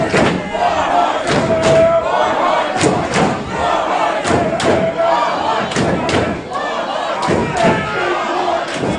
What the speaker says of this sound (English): Crowd chanting for Warhorse.